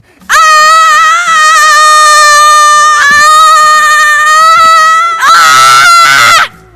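Loud, sustained screaming outdoors in a forest, done to relieve stress: two long, strained yells with a brief break between them, then a third harsher burst.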